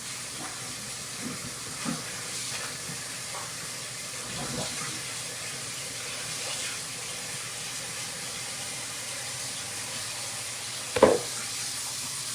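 Tap water running steadily into a kitchen sink while a colander and sponge are washed, a continuous hiss with a few faint knocks and one sharper clatter near the end.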